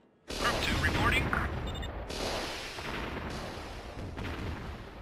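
Bombard artillery fires during a Warzone 2100 game battle: a sudden loud boom followed by rumbling, crackling barrage and further impacts that fade in waves, heard close.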